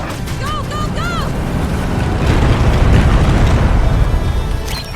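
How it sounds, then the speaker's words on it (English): Rumbling explosions from a bombing run in the Starship Troopers: Ultimate Bug War video game build into a heavy booming roar. Whooping electronic effects ring out at the start. "Stay alert for a bombing run."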